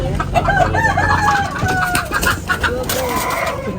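A native country rooster crows loudly and close by, with a long drawn-out call followed by shorter crowing and clucking from other fowl around it.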